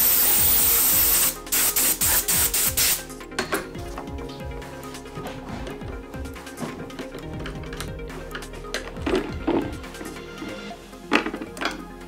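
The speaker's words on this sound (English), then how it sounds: "Blow it out with compressed air." Compressed air blasts through an ATV air filter element in two loud hissing bursts, followed by quieter clicks and handling clatter of the filter and tools.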